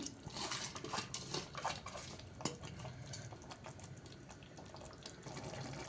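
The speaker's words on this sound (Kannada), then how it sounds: "ಬೇಳೆ ಸೇರಿಸ್ಕೊತಾ ಇದ್ದೀನಿ ತೊಳೆದಿರೋದು" Washed lentils (dal) pour into a boiling pot of chopped vegetables, a soft, steady splashing and bubbling close by, with light pot and utensil clinks and no talking.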